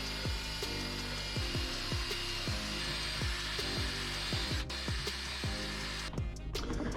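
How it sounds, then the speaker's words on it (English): A power drill bores holes with a larger bit to mount a RubiGrid base to a vehicle dashboard; a steady loud motor whine runs throughout, with rhythmic repeated bursts as the bit cuts. "we'll go ahead and use the next size up on the drill bit"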